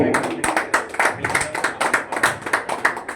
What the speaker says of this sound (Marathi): जरा टाळ्या होऊन जाऊ दे.